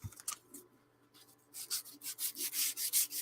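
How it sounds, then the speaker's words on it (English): Small laser-cut wooden orrery parts rubbed with sandpaper, a few faint strokes at first, then a quick rhythmic run of close, scratchy back-and-forth passes. "they need a bit of a rub down with sandpaper"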